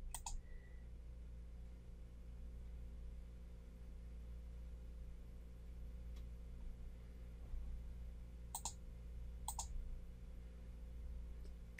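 Several sharp computer mouse clicks in banking reconciliation software, one near the start, one faint single click midway and two paired clicks close together later, over a low steady electrical hum.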